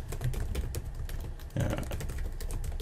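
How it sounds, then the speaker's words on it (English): Steady, rapid clicking of computer keyboard keys as an email address is typed, close and fairly quiet, with a short pause partway through. "I type in an email address"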